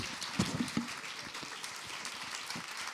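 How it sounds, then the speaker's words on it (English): Applause from a press-conference audience closing out a session with the Maleficent 2 cast, a faint, distant patter of many hands with a few sharper claps near the start, fairly steady and low in level. "Please, round of applause."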